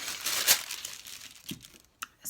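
Paper prompt cards being cut out, crisp crinkling and snipping in short close bursts with brief pauses between.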